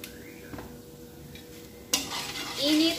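Cooking oil heats and gets stirred in a pan while making chopsuey: a low, quiet kitchen background, then a sudden louder sizzle with scraping and clinks of a utensil against the pan that keeps building toward the end.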